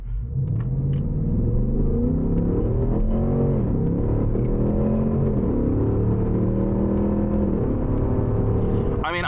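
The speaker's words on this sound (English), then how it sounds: "I'm literally at quarter throttle, short shifting, not even being that loud" Car engine pulling at light throttle with short shifts, a loud close interior rumble whose pitch climbs and drops several times through gear changes, with a voice speaking over it.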